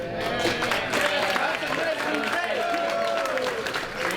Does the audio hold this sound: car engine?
no